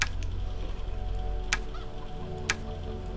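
A chicken clucks in the video game Arx Fatalis, with a few short, sharp clucks standing out over a steady, low in-game ambient hum.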